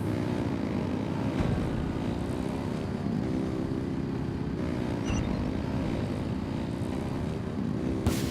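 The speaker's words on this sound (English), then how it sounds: "Rev the engines!" Droning engine roar in the Genshin Impact video game, a steady, loud, sustained hum that holds throughout without breaks.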